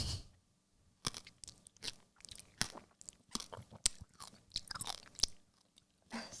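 Close, crisp crunching of a fresh passion fruit being bitten and chewed, a run of sharp irregular crunches and smacks over six seconds with no talking.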